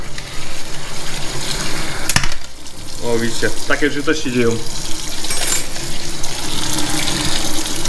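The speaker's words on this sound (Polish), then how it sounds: "Przepłuczamy go zimną wodą." Cold tap water gushes steadily over cooked pad thai rice noodles in a kitchen sink, a continuous rushing stream that runs under someone speaking Polish.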